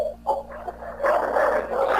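Several dogs bark repeatedly at a home, a little way off and moderately loud, in uneven overlapping bursts over a steady background hum, with no speech.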